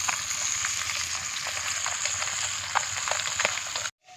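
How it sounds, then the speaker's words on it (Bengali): Fresh pond bata fish fry over a wood fire in a rural outdoor kitchen, a steady, dense close-up sizzle with crackles that cuts off abruptly near the end. "এই যে মাছগুলো ভাজা হচ্ছে আর এই যে দেখুন সম্পূর্ণ প্রাকৃতিক পরিবেশে কাঠের জালে রান্না হচ্ছে।"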